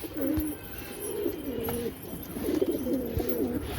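Pigeons coo from a loft on a building, repeated low throaty coos under an outdoor background hum, moderately close and steady across the stretch.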